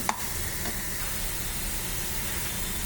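Green chillies fry and get stirred in a hot pan for a prawn and cashew curry, a steady close sizzle and hiss running throughout with a faint scrape at the start.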